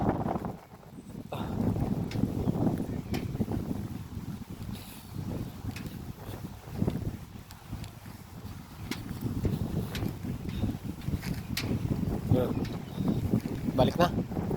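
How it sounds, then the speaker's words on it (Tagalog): Strong gusty wind on the high Mabenngan hanging footbridge in the Philippines buffets the microphone in a steady low rumble with irregular thumps and knocks throughout, and voices are heard now and then. "Malakas ang hangin."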